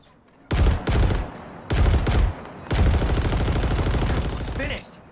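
Loud automatic gunfire in the video game Halo Infinite multiplayer, three bursts, the last a long sustained stream of rapid shots, close and dominant.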